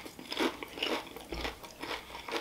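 Crisp, close crunches of warm tortilla chips dipped in spinach artichoke dip at Applebee's, with bites and chewing repeating in an uneven rhythm and no talking.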